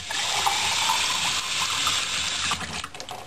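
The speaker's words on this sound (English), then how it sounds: "Fill this up in the sink here." Cold tap water gushes steadily from the faucet into a container in a sink, a loud, continuous splashing rush throughout.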